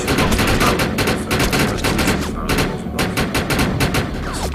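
Dense, continuous gunfire from the shooter game Defiance, rapid shots and thudding impacts layered loudly over one another with barely a pause.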